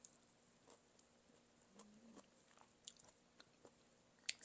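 Soft, close chewing of crunchy cooked squash during a Vietnamese home meal, with quiet irregular bites and crunches, ending in a sharper click.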